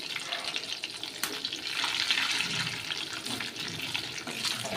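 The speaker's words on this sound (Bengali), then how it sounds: "এই তেলে দিয়ে দেবো জিরে আর গরম মশলা ফোড়ন" Cumin, garam masala and a bay leaf tempering in hot oil after fish has been fried, making a loud, continuous crackling sizzle with watery spitting bursts up close.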